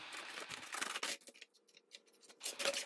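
Scissors cutting cardboard in half for a junk journal spine, with close, uneven crunching snips and scraping pauses between them.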